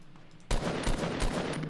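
Dense, rapid gunfire erupts in the video game Fortnite, a sharp burst followed by continuous loud rattling shots with no talk over it.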